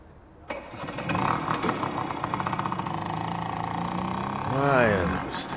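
Noisy vehicle engines with a modified exhaust in the video game The Flower Collectors start up and hold a rough, throbbing idle, then rev in a rising and falling surge near the end.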